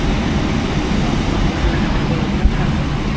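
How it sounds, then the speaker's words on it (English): An Emirates airliner sits on the runway before takeoff from Cape Town, giving a steady, loud, even rumble of engines and airflow with no voices. "Once we turn onto the runway, I'm going to hand the camera to the co-pilot to film the takeoff"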